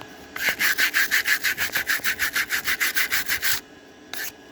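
Rhythmic back-and-forth sanding and scraping of hardened glue on a model train part, about fifteen steady, loud strokes close up, then a pause and one last brief stroke.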